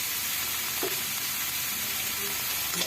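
Onion stalks (peyajkoli) fry in a pan while being stirred, giving a steady close sizzle throughout with a few soft scraping stirs and no voices.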